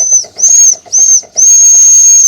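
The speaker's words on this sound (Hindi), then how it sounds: "ट्रेन की जो पुरानी सीटी है," An old steam train whistle blows loud and shrill in four bursts, the last held longest, with a hissing steam edge behind each blast.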